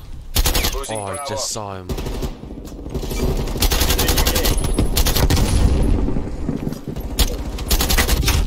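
Rapid automatic gunfire rattles in loud repeated bursts in Call of Duty Cold War, with shots cracking close by, while a player speaks briefly over the shooting.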